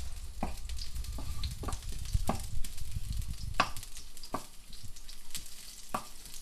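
A marinade frying gently in a pan over moderate heat, giving a steady soft sizzle with scattered small pops and crackles, close and even throughout.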